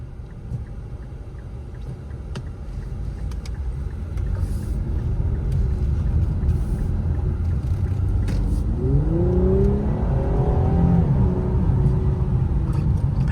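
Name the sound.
2022 Infiniti Q60 Luxe accelerating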